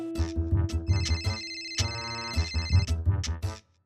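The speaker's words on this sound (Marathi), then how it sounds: "अगं तुझ्याच फोनची रिंग आहे, उचल उचल." A mobile phone ringtone plays continuously at moderate volume, a bright melodic electronic tune with steady repeating notes lasting several seconds before stopping abruptly.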